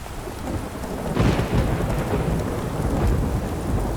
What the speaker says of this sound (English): This is quite the storm.